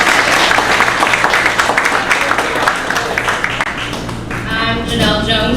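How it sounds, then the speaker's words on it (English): An audience applauds a panel at a policy event on tax reform, with steady, dense clapping that fills the room and eases off slightly toward the end. "Let's give the panel another round of applause."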